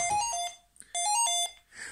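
A telephone rings with a shrill electronic tone in two bursts separated by a short gap, close and clear with no talk over it.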